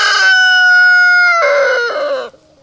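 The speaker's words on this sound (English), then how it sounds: "There's a little chicken here. One mama with a chick." A backyard chicken gives one loud, drawn-out, harmonic call close by in a coop where a hen with her chick has a fresh nesting box. A shorter, rougher call follows before it fades out.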